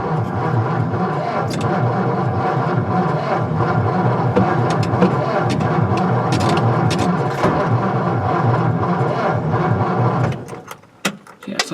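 A 1955 Ford Fairlane engine cranks on its starter with a 12-volt battery, a loud continuous whirring churn that keeps turning without catching, then cuts off near the end and leaves a few faint clicks.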